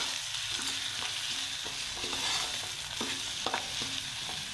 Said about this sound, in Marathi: ह्यालासुद्धा आपण चांगल्या प्रकारे मिक्स करून घेऊया